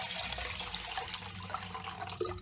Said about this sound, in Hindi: और इसमें फिर से दूसरा पानी डालें।